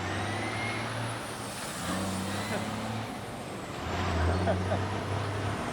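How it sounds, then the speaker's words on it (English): A loud truck rolls along a city street near Boston's Harvard campus, its low engine drone rising and falling with a hiss of air brakes, steady traffic noise filling the whole stretch. "The trucks are as loud here as they are everywhere."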